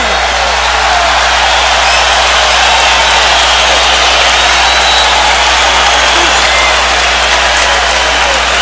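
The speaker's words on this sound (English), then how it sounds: "Crowd's very anxious to cheer, so they do so." A boxing arena crowd at Bernard Hopkins vs Howard Eastman roars and cheers in a steady, loud wash of noise with scattered applause, sustained throughout with no break.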